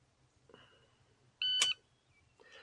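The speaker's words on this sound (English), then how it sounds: "On the beep of your timer, right?" A single short, sharp electronic beep from a shooting shot timer during a pistol class, clear and loud against a quiet background.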